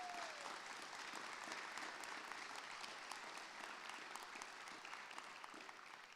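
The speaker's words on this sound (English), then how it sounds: "can you also give a big round of applause to all of the faculty and staff members that have had such an impact on you?" Sustained applause from a crowd at a high school commencement ceremony, a dense steady patter of many hands clapping, fairly distant and even throughout, with no talk over it.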